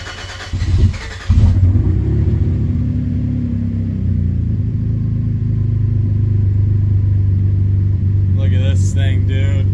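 A Cadillac ATS-V with a brand new engine and no steering wheel fitted fires up with a short crank and burst, then settles into a loud, steady idle close by, with brief talk near the end.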